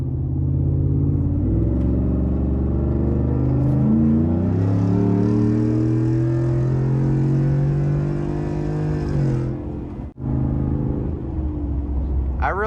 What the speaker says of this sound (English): it sounds really low and deep toned at the bottom, and then up top it's just screaming